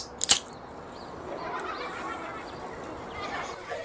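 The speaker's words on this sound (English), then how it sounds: "It's your very own pony." A horse whinnies in a Cyanide and Happiness cartoon, one short sharp neigh right at the start, then quieter background sound fills the rest.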